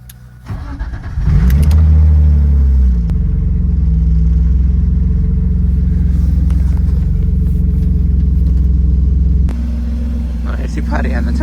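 A car engine turns over and settles into a loud, steady low rumble that runs unbroken for about ten seconds close by, easing slightly in level near the end.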